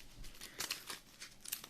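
A quick flurry of papery riffling and crisp flicks as a deck of The Lord of the Rings card game cards is shuffled close by, lasting under two seconds.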